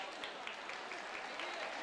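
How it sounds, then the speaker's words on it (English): Applause from a crowd at a junior roller derby world cup match between Canada and Great Britain, a steady wash of clapping heard at a moderate distance, sustained through the whole short stretch without a break. "we're getting some applause going on here"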